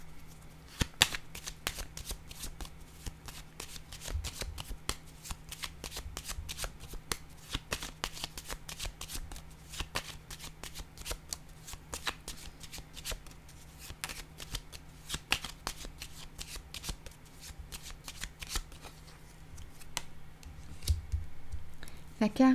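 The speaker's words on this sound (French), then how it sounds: "Je vais déposer une carte ici." Tarot cards are shuffled and laid down on a table in a long run of quick, soft flicks and taps, faint and close. A voice speaks intermittently over the handling.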